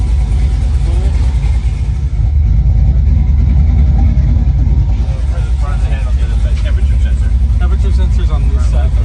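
A 1965 Chevrolet Nova V8 idles steadily on its first start-up, a loud continuous low rumble with faint speech mixed in.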